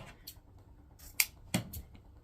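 Scissors cutting mesh ribbon at an angle for a spring wreath, giving a few short, sharp snips spaced apart, close and crisp against a quiet room.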